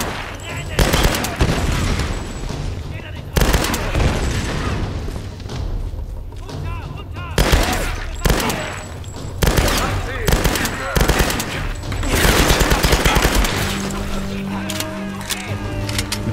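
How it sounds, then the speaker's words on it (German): Enemy gunfire in Tomb Raider (2013): dense automatic rattling and repeated shots with heavy thumps, loud and almost continuous, while German voices talk over the firefight. "Wer schießt? In Deckung."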